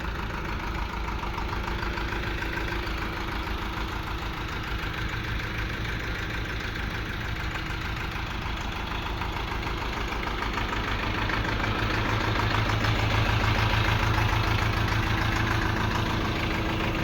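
A YTO-454 tractor fitted with a 400-litre sprayer idles steadily in a continuous, fairly loud low rumble that holds its level for the whole stretch and swells slightly near the end, with no talking.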